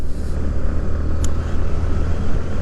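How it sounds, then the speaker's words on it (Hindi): A Yamaha MT15 street-fighter motorcycle accelerating in sixth gear up to about 80, a steady, close engine drone with loud wind rush throughout and no talk. "ये देखो अभी मैंने 6th गियर पे ही एक्सीलेटर दिया है एंड इजीली 80 पहुंच गई"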